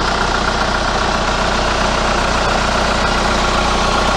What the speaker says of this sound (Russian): это дизельный двигатель, и он так и должен работать